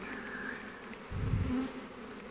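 Honeybees buzz at a beehive during beekeeping in New Zealand, a steady close drone that swells briefly louder midway as a bee passes near.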